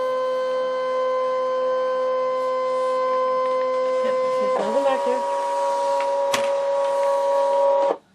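Steady whirring motor hum with tonal whine as a Brother ScanNCut 2 cutting machine draws in its mat, a sharp click midway, then the sound stops abruptly.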